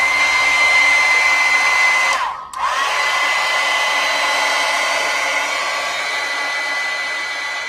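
A hair dryer blows on sketchbook pages with a loud, steady whir that dips briefly once before resuming and running on evenly.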